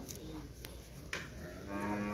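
Cattle moo at a busy cattle market for bulls in Rajshahi, with a long low bellow rising near the end over a steady crowd and livestock background murmur; no talk.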